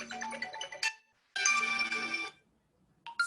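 A phone ringtone plays in two loud electronic bursts separated by a short silence, and a third burst begins at the very end.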